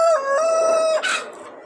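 A single Label Rouge rooster crows up close, one long loud harmonic call that rises and holds before breaking off at the end.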